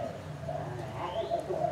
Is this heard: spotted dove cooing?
yes